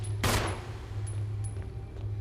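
A gunshot in the Resident Evil Remake video game, one loud sharp blast near the start, followed by faint clicks and a low steady background hum.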